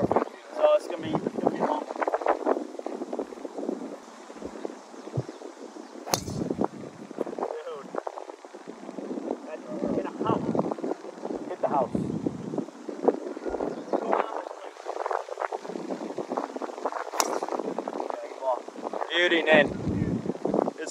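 Strong wind of about 60 blows across a golf course and buffets the microphone in uneven, rumbling gusts, while people talk throughout.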